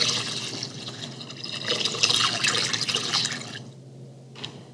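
Liquid poured into a pot of rice while cooking oxtail, a steady splashing pour for most of the clip that stops abruptly near the end, followed by a brief drip.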